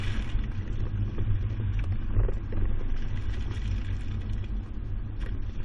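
A 2020 Chevrolet Colorado pickup carrying a Kuat NV 2.0 two-bike rack weaves through a slalom course, heard as a steady low engine and road rumble with broadband tire noise, continuous and close, without voices.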